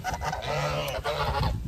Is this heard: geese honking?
yes